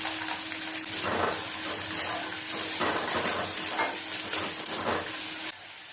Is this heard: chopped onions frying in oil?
yes